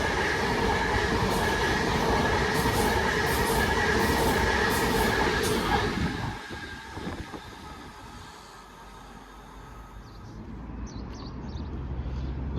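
An Avanti West Coast train on diversion from Milton Keynes Central to Preston roars past close by for about six seconds, with steady loud rumble and rail noise, then recedes into quieter station ambience.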